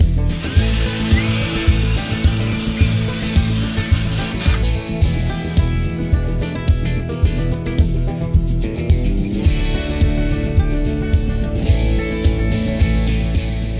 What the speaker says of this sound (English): remove the remaining adhesives with the drill